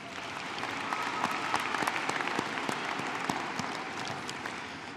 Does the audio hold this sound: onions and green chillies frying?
no